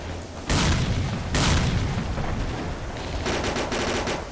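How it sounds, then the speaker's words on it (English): Grenades burst near the player in S.T.A.L.K.E.R. Clear Sky, loud broadband blasts landing in quick succession amid a dense, continuous roar of gunfire and battle noise, with no talking. "They're just throwing non-stop grenades."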